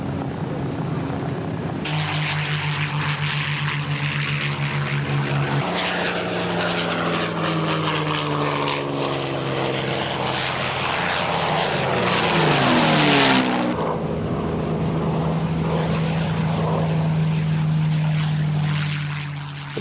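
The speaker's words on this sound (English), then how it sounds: "the B-17 Flying Fortress, here taxiing past Duxford's new American Air Museum" B-17 Flying Fortress four-engine propeller bomber taxiing past the American Air Museum at Duxford during an airshow, a loud droning rumble of radial engines whose pitch shifts as it passes close by, steady throughout.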